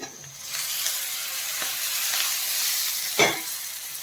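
Drumstick (moringa) pieces frying in a pan give off a steady, close sizzle, with a few stirring scrapes and a brief louder spatter near the end.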